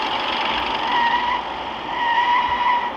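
An ambulance drifting in a driving game, its tires skidding in a sustained squeal that swells and eases twice over a few seconds with steady engine noise beneath.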